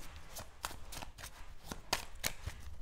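A deck of oracle cards is shuffled for a card reading, producing a quiet, steady run of papery riffles and crisp snaps that recur every fraction of a second with no talking.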